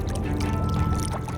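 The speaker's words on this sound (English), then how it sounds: "The soothing sound of bubbles in Chris Hove's backyard" Water bubbles and churns in a backyard swimming pool, a brief, close, continuous gurgling wash.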